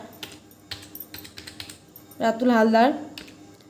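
Quick, light taps on a computer keyboard enter names into an Excel sheet, a scattered run of keystrokes close by, briefly overlapped by a spoken voice.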